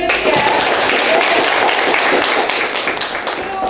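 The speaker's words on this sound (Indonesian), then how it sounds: "Oke, tepuk tangan buat Yogi ya" A classroom full of people claps in a dense, steady burst of applause that stays loud and close throughout, with no one talking.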